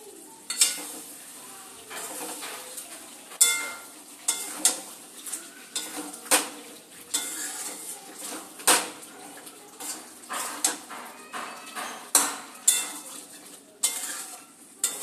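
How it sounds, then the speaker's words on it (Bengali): Chicken curry being stirred in a pan, with a spoon scraping and clinking against the metal at an irregular pace over a steady background sizzle of oil, close and moderately loud, with no voices. "মাংসটা দিয়ে আবার একটু ভালো করে নেড়ে চেড়ে নেব"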